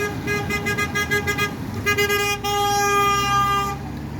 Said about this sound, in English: A lot of people honking their horns.